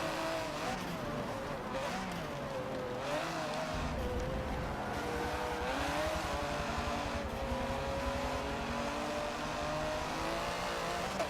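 Race car engine in Forza Motorsport 7, revving hard under acceleration with rising and shifting engine tones, loud and sustained throughout, with faint tire noise beneath and no speech.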